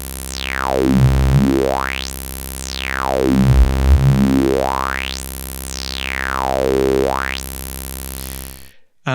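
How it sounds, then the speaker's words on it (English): An Arp 2600 synthesizer tone runs through a resonant high-pass filter, its sharp resonant peak sweeping down and back up again in three loud, smooth sweeps before cutting off abruptly. "And now we've got a resonant high pass filter."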